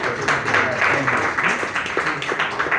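An audience at a stand-up comedy show claps in a dense, steady wash of applause, with scattered voices mixed in.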